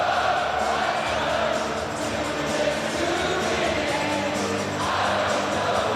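Dense, steady roar of a rugby stadium crowd at a 2009 Tri Nations test between New Zealand and Australia, a constant wash of massed voices with slight swells and no single voice standing out.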